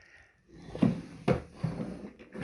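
A wooden drawer on a clockmaker's workbench gives a few short, close knocks and scrapes as it slides open or shut, spaced irregularly in an otherwise quiet room.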